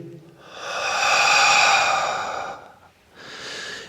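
A long, steady, breathy exhale during a yoga session lasts about two seconds, then a pause and the start of another soft breath, close and quiet.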